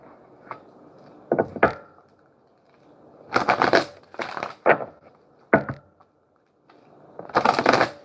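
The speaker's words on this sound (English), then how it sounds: "I just wanted to shuffle those up a little bit." Oracle cards are shuffled in several short bursts of riffling and flicking, loud and close, with quiet pauses between handfuls and no talk.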